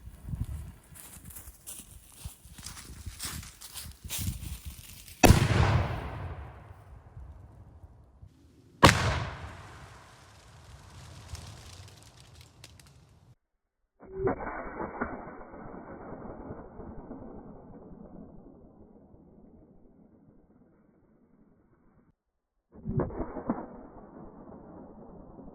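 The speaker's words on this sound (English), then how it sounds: "we're gonna put one of our regular cannonballs through our dishwasher just to see what it does" A cannon fires a regular cannonball through a dishwasher outdoors: two sharp, loud blasts a few seconds apart, each trailing off, then two later thudding bursts with a long rumbling decay.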